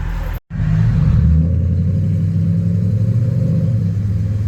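A 1992 Toyota Soarer's 1UZ V8 exhaust through Neighborhater mufflers gives a loud, deep, steady rumble close by. It holds a burbling low-throttle drone after a brief cut at the start.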